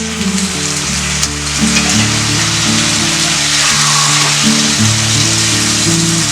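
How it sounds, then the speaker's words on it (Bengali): Mixed vegetables for a Bengali panchmishali torkari sizzling loudly in a pan after water is added, a dense, steady hiss and crackle close up, with a humming tonal drone underneath and no talking. "আমি এবার একটু জল দেব।"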